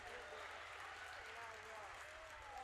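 A gym crowd at a girls high school basketball game applauds the senior players, a steady dense wash of clapping heard faintly at a distance under an announcer's voice.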